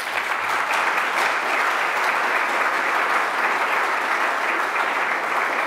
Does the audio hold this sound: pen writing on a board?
no